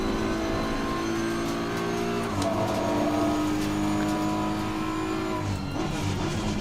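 Mazda MX-5 race car engine in the racing game Assetto Corsa Competizione drones steadily and loudly throughout, with a brief gear-change dip partway through and a steady engine tone continuing afterward.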